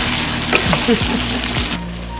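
Meat sizzles steadily in a hot pan, a loud continuous frying hiss with a few soft scraping stirs, then the sizzle eases slightly near the end.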